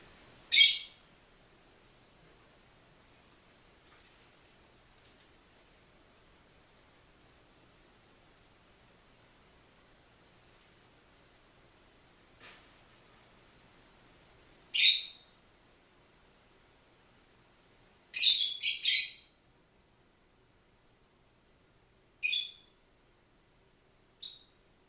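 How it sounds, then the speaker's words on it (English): A bird chirps in short bursts in the background, with several brief, fairly faint calls spaced across an otherwise quiet stretch. "Hope you enjoyed the bird in the background."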